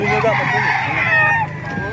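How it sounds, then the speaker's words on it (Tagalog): Roosters in Bocaue, Bulacan crowing close and loud, overlapping calls from more than one bird running through the short stretch, with a voice mixed in underneath. "Mga gandang manok dito sa likod"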